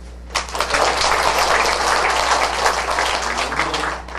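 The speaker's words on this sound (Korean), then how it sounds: "우리 찬양팀 우리 박수 한번." A Korean church congregation at a Friday prayer service applauds its worship team, a thick steady wash of clapping that begins sharply and holds over a low hum.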